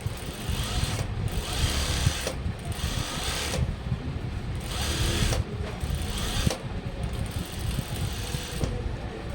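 Sewing machine stitching blouse lining whirs in several short bursts separated by brief pauses, close and fairly quiet.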